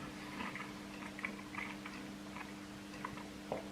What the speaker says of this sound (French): En plus, ça fait du bruit quand je mâche.